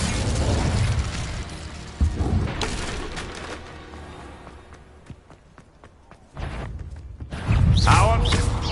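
A fire spell blast cast in the wizarding video game Hogwarts Legacy: booming bursts and crackling impacts, loud and busy, with a quieter stretch in the middle before the blasts surge back.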